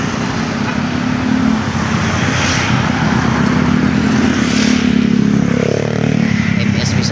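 Medium tour bus passing on a road, a loud rumbling engine and tire roar building and swelling close by amid traffic, with someone talking over it.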